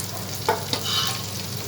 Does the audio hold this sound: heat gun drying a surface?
no